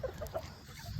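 A small backyard rooster and hen cluck softly near each other while squabbling over a thrown piece of potato, giving a few brief, faint calls at close range with no talking.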